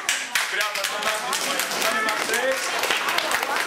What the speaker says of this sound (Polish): Brawa dla Magdy